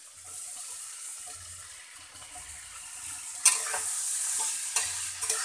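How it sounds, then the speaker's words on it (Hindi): Chopped sponge gourd is stirred into a pan of frying chickpeas and spices, a soft continuous sizzle broken by scraping spoon strokes and a few sharp clinks, close and fairly quiet, with no talk. "अब इसमें हम नेनुआ जो कट किए थे वो डाल देते हैं।"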